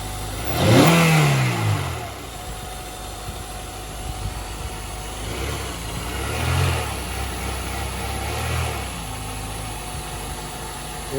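An Acura RSX with a newly installed intake revs in several short throttle blips, the first loudest and rising sharply, then two softer rises over a steady idle.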